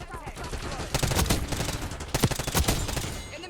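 Call of Duty multiplayer gunfire on a hardpoint match: rapid automatic shots crackle in quick bursts over a steady game background, fairly close and sharp.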